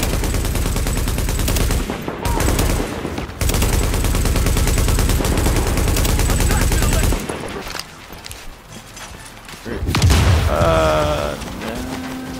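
Rapid bursts of video game gunfire, sustained automatic shooting for several seconds with brief breaks, loud and close, then quieter shots and a voice near the end.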